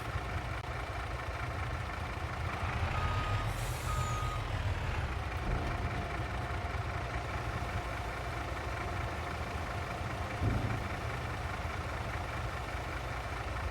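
A truck in Farming Simulator 22 idles with a low engine drone while reversing beeps sound, along with a hiss like an air brake, all fairly faint and steady with no talk.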